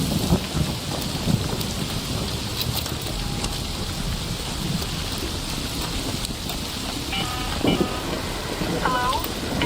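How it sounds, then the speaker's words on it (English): Steady heavy rain with rumbling thunder during an electromagnetic storm in the video game Arc Raiders, a dense continuous wash of noise with occasional sharper crackles and faint voices in the background. "an electromagnetic storm is currently raging over topside. Beware the lightning strikes if you're outdoors."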